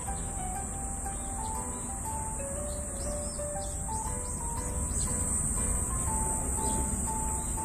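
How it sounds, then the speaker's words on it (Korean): A black cicada (Cryptotympana atrata) drones continuously in a high, buzzing whine over a steady outdoor background of other insects and hum. "매미 소리입니다."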